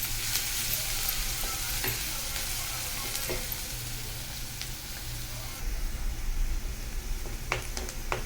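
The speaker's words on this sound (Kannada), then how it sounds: "ಚೆನ್ನಾಗಿ ಬ್ರೌನ್ ಆಗೋ ತನಕ ಫ್ರೈ ಮಾಡಬೇಕು." Onions or spices frying until brown for an aloo gravy, a continuous close sizzle with scattered crackles and occasional stirring clicks, growing a little louder near the end.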